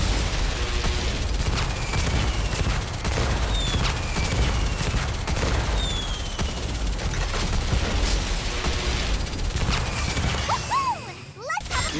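Rapid, dense gunfire and crackling combat effects from the mobile shooter game Nikke during a hard-mode Union Raid boss fight, a continuous loud barrage with whistling projectile sweeps and a brief tonal chirp near the end.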